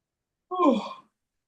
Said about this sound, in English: Now you're yawning.